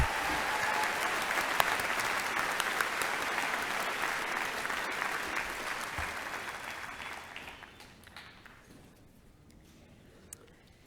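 Applause from a graduation audience greeting new doctors at an Alfred University commencement, a dense steady crowd clapping that holds strong for about seven seconds, then thins and fades to scattered claps.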